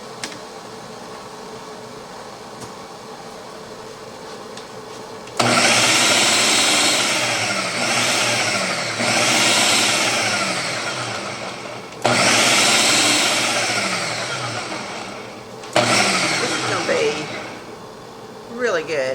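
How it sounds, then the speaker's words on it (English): A kitchen blender pulses soup ingredients with a quarter teaspoon of salt for homemade Velveeta and potato soup, loud whirring bursts of several seconds each, three or four pulses separated by short pauses. "we're going to pulse this to blend it"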